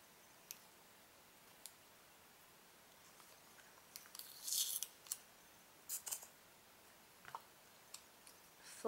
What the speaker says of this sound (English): so you're just going to want to trim if you need to